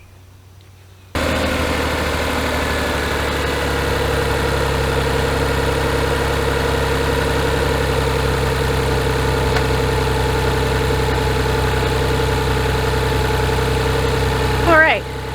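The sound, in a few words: 1999 Chevy Metro engine running and warming up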